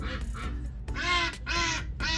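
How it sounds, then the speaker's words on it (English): Several loud, nasal quacks from ducks nearby, coming in quick repeated bursts over a couple of seconds. "The ducks are always so loud."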